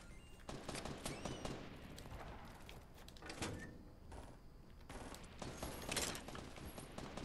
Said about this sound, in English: A lot of people getting shot near us.